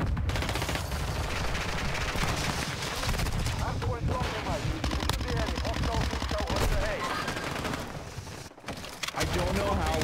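Dense gunfire from a shooter video game, continuous bursts under frantic, shouting talk across the whole stretch, with a brief dropout near the end before the firing resumes.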